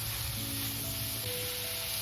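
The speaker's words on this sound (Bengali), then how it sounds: "সেইটুকু দিয়েই আমার মাশরুমটা ভাজা হয়ে যাচ্ছে" Mushrooms fry in a pan with a steady, close sizzle seasoned with salt, sugar, vinegar and soy sauce, a continuous crackling hiss with faint scraping, no voices heard.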